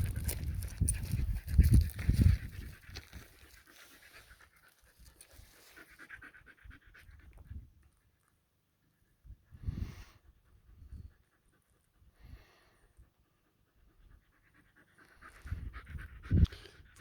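A husky dog pants in quick, close bursts that come and go, with long quiet gaps and a few louder breathy stretches near the start and end.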